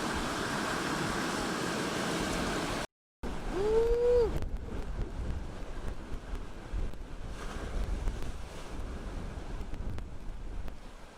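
Wind blowing across a beach on Kauai, Hawaii, a loud steady rush buffeting the microphone with surf noise underneath, briefly cut off near the start, alongside a rising whine from a drone.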